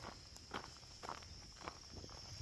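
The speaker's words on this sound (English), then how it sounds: "all I still hear is the sound of my breathing, footsteps, and nature" Footsteps crunching along the Buck Schroth Trail at a steady walking pace outdoors, soft and close, with a faint hiss of insects and breeze behind them.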